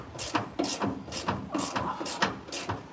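A hand ratchet wrench turning a bolt during a Ranger X15 transmission swap, a steady back-and-forth series of raspy pawl clicks in about six even strokes, close and clear.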